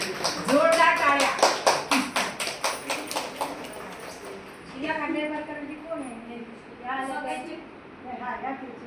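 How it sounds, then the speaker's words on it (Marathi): Applause from an audience at a Diwali family gathering, opening with rhythmic, fairly close clapping in a steady beat that fades out, followed by a person talking. "जोरदार टाळ्या"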